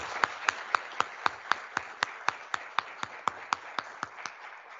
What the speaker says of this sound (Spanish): Démosle un gran aplauso por los nuevos alcaldes